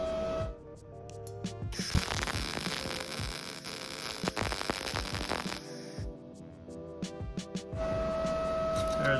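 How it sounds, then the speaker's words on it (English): An Arccaptain MIG250 MIG welder lays a rosette spot weld in automotive work, giving a loud, steady buzzing crackle that runs in sustained bursts with brief pauses between, over a constant electrical hum. "we're going to fill this thing up with weld."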